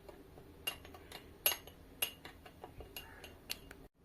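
A spoon stirs a dry spice mix of salt, black salt and pepper for French fries in a bowl, giving quiet, irregular clinks and light scrapes against the bowl, with no talking.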